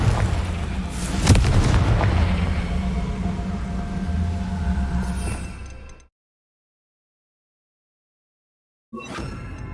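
A Confringo fire blast spell from Hogwarts Legacy booms loudly with a sustained roaring burst and sharp crack near the start, dying away into silence before another blast begins.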